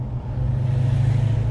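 A Dodge Charger V8 with standard exhaust manifolds and its exhaust valves opened idles and revs close by, a steady deep rumble that swells slightly after a brief dip.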